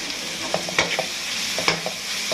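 Masala fries on a low flame in a pot, a constant close sizzle with quick scraping strokes of a spoon at irregular intervals, no talking.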